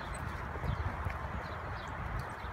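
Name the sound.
horse hooves moving during spin training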